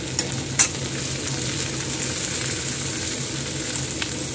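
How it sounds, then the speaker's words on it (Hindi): Ginger and green chillies frying in a pan for a crispy karela dish give a steady close sizzle with a few sharp crackles and scrapes, and no one speaks. "अदरक को लिया है और अपनी हरी मिर्च, इन सबको भूनना है"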